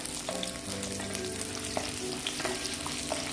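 A pan of roasted ground coconut chutney sizzles steadily while a spoon stirs and scrapes through the mixture, with soft taps and clicks over the frying noise.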